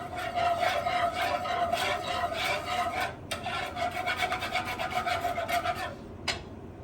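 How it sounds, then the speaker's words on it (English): A utensil scrapes steadily around a pan of scrambled eggs with cheese, a close, continuous rasping rhythm that breaks briefly and then resumes. "So scrambled eggs, it's always good to be stirring."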